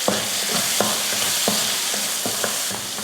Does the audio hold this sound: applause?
no